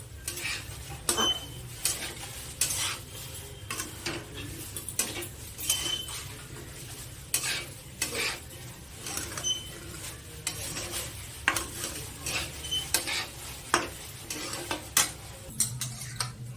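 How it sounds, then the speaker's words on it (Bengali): Lentils are fried in a wok and stirred with a metal utensil, making repeated scraping strokes and light clinks over a low, steady sizzle that carries on for the whole stretch. "ডালটাকে একটু আগে ভেজে নিই,"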